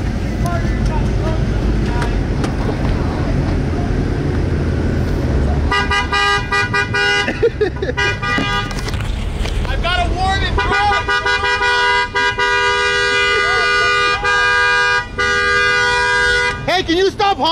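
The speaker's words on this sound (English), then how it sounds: "Hey, can you stop honking?" A car horn honks again and again, loud and close. Long blasts and shorter toots ring out over rumbling engine noise and street commotion, with voices shouting now and then.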